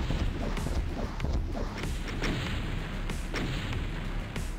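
Dense, continuous bursts of gunfire from the video game Doom 2, loud and booming with repeated blasts and no speech.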